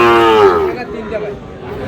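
A bull calf moos loudly and up close at a cattle farm in Pabna, one long drawn-out low call that fades over a couple of seconds.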